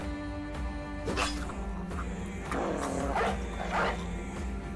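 A war dog barks a few times in Battle Brothers, sharp yips and barks scattered among clanking battle noises and a steady music bed.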